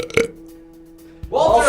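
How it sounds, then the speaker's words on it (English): A short, low burp erupts near the start of a studio talk show, followed by a pause of faint background hum before a voice comes in. "Can't burp on camera"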